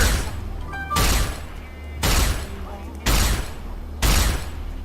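Four loud rifle shots fire in a video game at roughly one-second intervals, each a sharp broadband blast that decays into a rumbling tail before the next.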